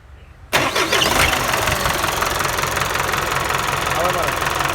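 An old starter motor cranks an engine that catches and runs, a sudden loud onset after a brief quiet lead-in, then a steady rough running note with voices speaking over it.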